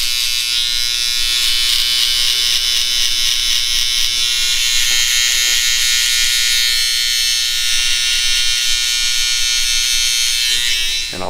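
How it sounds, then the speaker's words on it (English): Babyliss electric hair trimmer runs steadily and loudly close by, buzzing continuously as it cuts hair down to the skin during a skin fade, with no talking. "like to use my Babyliss trimmer to actually take it down to as close to skin as possible"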